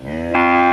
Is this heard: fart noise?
no